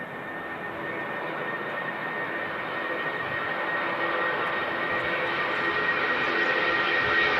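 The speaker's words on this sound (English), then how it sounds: "another Jet 275 rolling on the runway right now" A jet airliner rolling down the runway for takeoff at windy Manchester Airport, a loud sustained engine roar that builds gradually, heard from the airfield edge with no talk.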